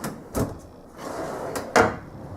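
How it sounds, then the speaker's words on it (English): A kitchen pull-out shelf for pots and pans slides shut in a cabinet, making two soft wooden knocks a little over a second apart, the second one sharper, over faint room noise. "there it is, the second drawer, or pull-out shelf rather,"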